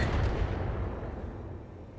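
A volley of missiles fired at a Shadowhawk mech in the game RogueTech makes one loud booming rush that fades into a long rumbling tail.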